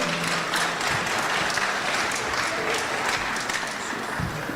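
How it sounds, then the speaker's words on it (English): Audience at a career and technical education signing day gives the guest speakers a round of applause: a dense, even stretch of clapping from many hands that holds steady and nearby throughout. "let's give them a round of applause for doing a great job today"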